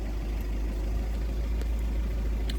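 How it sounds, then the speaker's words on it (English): A car engine idles steadily in a workshop during a brake pressure sensor circuit check, a continuous low rumble filling the whole stretch with faint small clicks above it. "I'll start the engine here."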